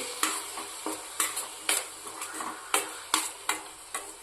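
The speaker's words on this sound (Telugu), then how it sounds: "ముందుగా కట్ చేసి పెట్టుకున్న టమోటా టమాటాను కూడా యాడ్ చేసేసి మంచిగా కలిపేయాలి" A spoon scrapes through chopped tomato being mixed into frying paste in a pan, giving about a dozen crisp, rhythmic stirring strokes over a soft background sizzle, with no voices.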